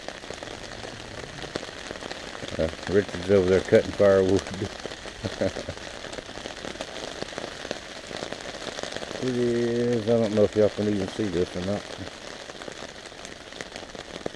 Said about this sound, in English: and of course it's still raining